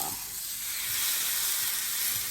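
Skirt steak laid in a preheated pan gives a steady broad sizzle and hiss, fairly loud and continuous with faint low bumps beneath.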